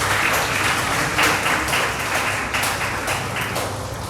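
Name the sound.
audience applause at award presentation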